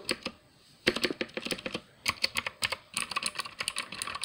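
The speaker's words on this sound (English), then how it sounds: "So here's the keyboard, here's the Motospeed, and let's have a sound test." Rapid typing on a Motospeed 60% gaming keyboard, close and crisp, with dense bursts of clacky keystrokes separated by brief pauses and no talking.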